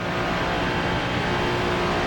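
Race car engines roar steadily in a racing video game, a continuous dense engine drone held at an even loudness with no break, heard alone without voices.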